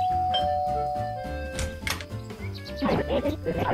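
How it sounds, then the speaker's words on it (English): A doorbell rings at a cabin door in an animated scene, a short chime standing out over a steady musical background with a busier passage toward the end. "rings the doorbell"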